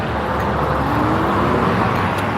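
Cars pass over the Hathaway Bridge in Panama City, a loud, continuous roar of road traffic heard up close from a bicycle, with no talk.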